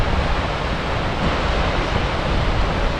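A large Icelandic waterfall roars in a steady, dense broadband rush, loud and continuous with no pauses, heard alone.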